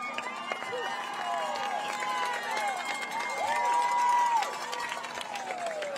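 Rochester fans cheering and shouting in the stands at a high school football game against Mt. Zion, a steady crowd roar with someone talking over it.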